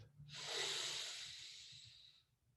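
Deep inhalation during a yoga breathing exercise: one long, close, airy breath drawn in through the nose and throat, rising quickly and then tapering off, with no one speaking.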